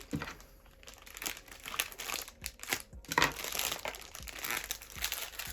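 Dense plastic parcel packaging, a bag inside a bag from a lost postal parcel, being unwrapped up close, with continuous loud crinkling and crumpling in bursts and no talk over it.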